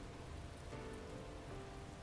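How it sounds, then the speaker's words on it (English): Steady rain falling on surfaces in the visual novel The Fruit of Grisaia. A dense, very quiet hiss of drops with no speech over it. "The rain, indifferent to her concerns,"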